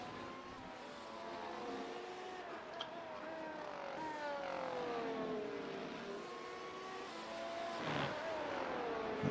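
A Formula 1 race car laps the Barcelona circuit, its engine note rising and falling in pitch as it accelerates and shifts through gears, fairly faint and distant, with a commentator's voice over it.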